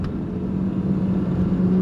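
A BMW 325is 2.7-litre engine drones low and close while revving, holding a steady rumble that builds slightly toward the end.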